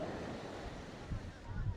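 Sea waves breaking against rocks at Calicut beach, a steady washing surf roar with wind buffeting the microphone and a couple of heavier surges near the end.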